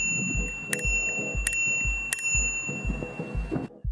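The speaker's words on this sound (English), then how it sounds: "On the left, you have a rather lame bell" Three bright dings from the handlebar bell of a Turbowheel Phaeton electric scooter ring out at an even pace, close and clear over a low rumbling background.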